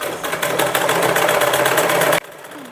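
A sewing machine stitches a kurti with a fast, steady mechanical whir and rhythmic needle clatter close by. It runs without a break, then stops abruptly near the end, leaving quiet, and no one speaks.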